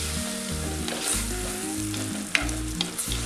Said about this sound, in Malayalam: നെയ്യ് ചേർത്തതിന് ശേഷം ഇതൊന്ന് ഇളക്കി കൊടുക്കാം